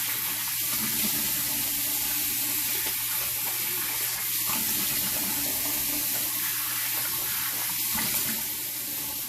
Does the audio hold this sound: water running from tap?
yes